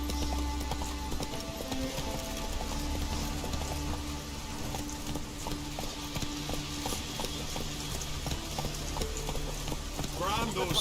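Horse galloping in the video game The Witcher 3: Wild Hunt, steady rhythmic hoofbeats pounding under a constant bed of game ambience and music, with speech layered over parts of the run.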